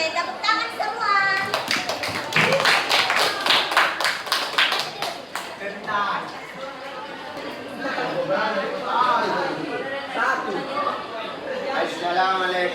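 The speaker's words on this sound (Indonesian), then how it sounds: "Oke, tepuk tangan semua." A school class claps its hands in a quick burst of loud, uneven claps among chattering voices, then the clapping fades into people talking.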